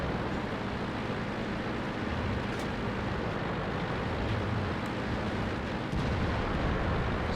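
Heavy, dense rumbling battle noise from World of Tanks, with an M41 Walker Bulldog firing its cannon at a Lorraine 40T. A few sharp booming shots stand out over constant loud engine and combat din.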